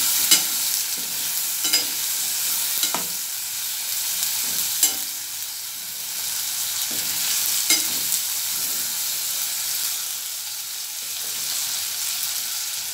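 A spatula stirs stuffed bitter gourds frying in a pan, scraping in regular strokes about every second or so over a constant close sizzle, with no voices.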